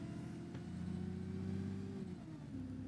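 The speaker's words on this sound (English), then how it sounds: "It did not like that revving at all." A bus engine in the OMSI 2 bus simulator hums loudly and steadily with a revving rise and fall, then settles lower near the end, with no voices.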